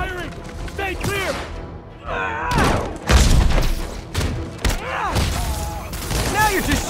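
Gunfire crackles through a Marvel's video game mission, with heavy booming bursts and thuds clustered in the middle and later stretches while excited voices shout over the shooting.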